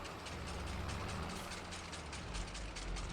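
An old Massey tractor engine in Farming Simulator 22 runs steadily at a low, rumbling idle with a rhythmic mechanical clatter, loud and continuous throughout.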